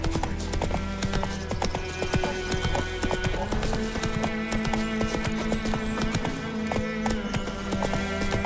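Horse hooves clip-clop steadily at a gallop in the open-world video game The Witcher 3, a dense rhythmic drumming close up with the odd whinny, plus a sustained musical drone underneath.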